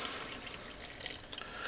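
Room-temperature water, poured with melted butter into the bowl of a stand mixer, for a Chicago-style deep dish pizza dough. It makes a steady, close splashing stream lasting throughout, with no talk over it.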